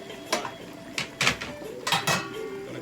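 Clattering metal kitchenware as a lid goes onto a pan steaming whole sea bass with ginger and pak choi, three distinct clanks over about three seconds, fairly close and moderately loud in a quiet kitchen.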